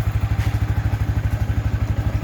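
Motorcycle engine idling after a cold start, warming up: a steady, loud, close low thumping pulse with a fast even rhythm and no talk over it.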